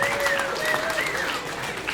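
Audience at a brewery comedy show applauding and cheering for the host, a dense burst of clapping with a couple of whistles, steady and close.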